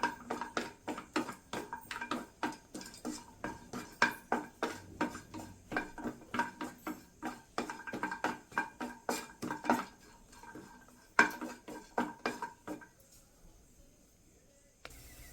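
Dry semolina (rava) roasting in a metal pan is stirred with a spoon, giving a steady run of close scraping and clinking strokes in a quick, regular rhythm that stops near the end.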